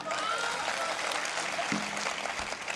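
Audience applause at a Hindi poetry gathering in Indore, a short steady burst of many hands clapping, fairly dense and even throughout.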